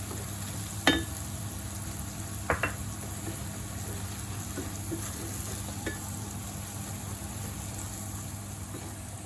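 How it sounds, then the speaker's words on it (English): Onions browning with ginger, garlic, chili, turmeric and methi fry with a low steady sizzle and background hum, punctuated by a few sharp spoon clinks against the pan. "the onions are starting to brown off and the ginger and garlic, chili. It's now time to add some turmeric. And some methi."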